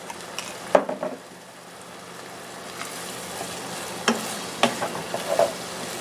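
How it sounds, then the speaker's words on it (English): Half a cup of beef broth poured into a hot pan of taco meat and stirred, with a steady sizzle and scattered scraping clinks of a utensil against the pan, close and fairly loud, no talking. "No, a half a cup of beef broth. And I'm going to add that in."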